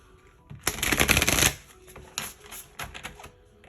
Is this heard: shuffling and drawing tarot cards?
yes